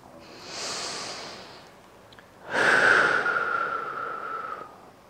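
Two slow, deep breaths are drawn close to the microphone while holding a yoga pose, each a long, airy rush that swells and fades, with a quiet pause between them.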